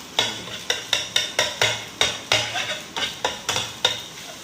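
A spoon repeatedly strikes and chops a cooked egg in a pan while preparing chicken and vegetable rice, giving a dozen sharp metallic taps in a steady rhythm over a faint sizzle.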